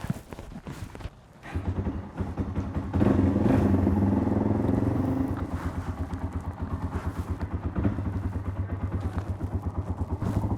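Motorcycle engine idling and pulsing steadily as a novice rider pulls in the clutch and drops into first gear, with a brief clatter of the shift before the engine note settles into a rougher, loud, close throb.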